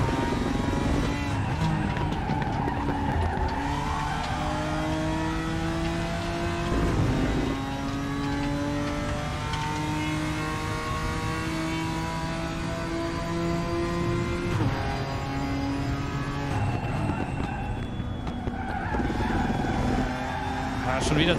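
A GT4-class race car in the RaceRoom racing game accelerates hard with a loud, continuous engine roar whose pitch climbs and falls through gear changes, with tire noise and a voice speaking German over it.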